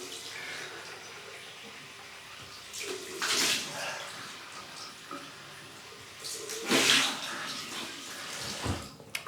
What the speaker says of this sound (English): So we'll have a cold water rinse.